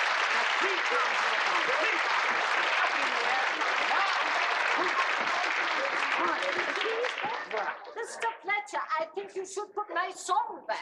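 A crowd cheers and claps for a procession of Beefeaters of old England with gleaming pipes, a dense, steady roar of applause that breaks up into scattered shouts and individual voices toward the end.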